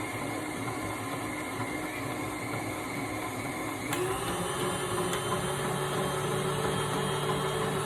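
An electric mixer whips lavender body butter with a steady, moderately quiet whir that steps up slightly in pitch partway through, running continuously without talk.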